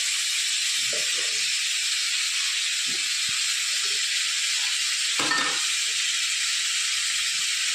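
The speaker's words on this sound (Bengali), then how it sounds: "মাছ ভাজা হতে হতে তখন আমি মশলাগুলো করে নেব।" Tilapia fish frying in a pan, with a loud, continuous oil sizzle that fills the whole stretch, broken only by a few soft low knocks and one brief clatter partway through.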